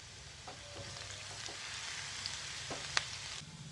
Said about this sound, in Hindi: अब बारीक कटी हुई एक प्याज डालें और इसे ब्राउन कर लें।